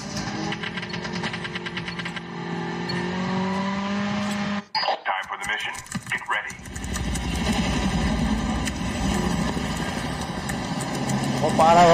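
Video game motorcycle engine running steady and loud, with a brief dip and rev around the middle before droning on, mixed with a voice talking over it.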